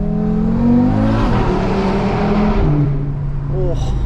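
Audi RS3 engine and exhaust revving hard inside a tunnel, a loud sustained roar with rising and falling pitch sweeps that echo off the walls, close and continuous throughout.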